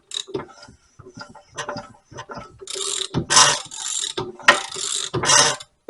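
A 1929 Briggs and Stratton model PB engine under restoration being turned over, with irregular ratcheting clicks and scraping bursts from a part rubbing, close up, in uneven clusters that grow louder toward the end.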